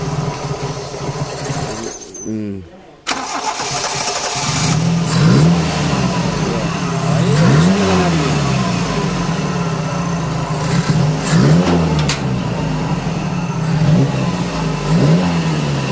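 A Toyota Corolla small-body engine with untuned carburetors cranks and catches after two years idle, then revs repeatedly in rough, shaky bursts over a loud running idle, with voices talking nearby.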